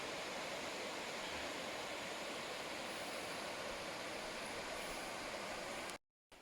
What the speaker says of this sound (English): I can hear the stream starting on the left